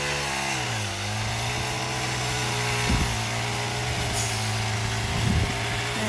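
A Japanese-style GX35 petrol brush cutter runs steadily for about six seconds with a close, continuous high-pitched engine whine, nearby and loud, its pitch dipping briefly and surging slightly a few times as it cuts.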